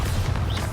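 A Bombarda spell blast cast in the PS5 game Hogwarts Legacy, during the Trial of the Stone: a loud, close, heavy explosive boom with a deep rumbling body and crackling debris noise sustained through the whole brief moment, with no voices.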